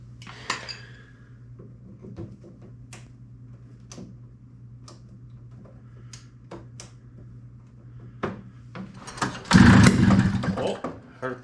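A 1971 Arctic Cat snowmobile engine that sat unused for over fifteen years being cranked: a low steady hum with scattered sharp pops and clicks, ending in a loud, close burst of sputtering engine noise.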